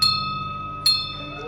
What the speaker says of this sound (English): And ring this bell 3 times well.